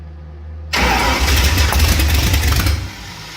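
A small carbureted engine in need of carburetor tuning fires up abruptly after a short quiet lead-in, then runs loud and rough for a couple of seconds before easing off, heard up close with no talk.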